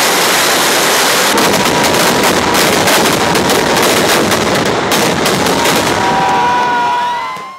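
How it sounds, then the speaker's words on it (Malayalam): Thrissur Pooram fireworks display by the Thiruvambadi and Paramekkavu groups: a dense, continuous barrage of loud rapid bursts and crackling blasts, with whistling shells rising near the end. "വെടിക്കെട്ട്."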